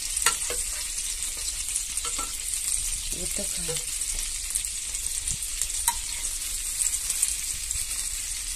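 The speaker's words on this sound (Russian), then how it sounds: "она прожаривается, у меня и мясо прожаривается, все." Meat sizzles and crackles in a hot frying pan, a steady hiss with occasional pops, while a voice speaks briefly.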